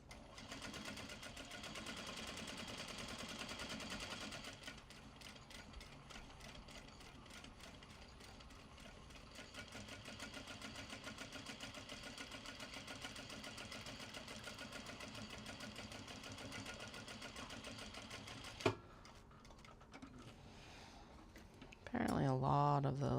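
Sewing machine stitching through denim and leather on a small traveller sling bag, running steadily and fairly loud for most of the stretch, then stopping with a thump before a voice speaks at the end.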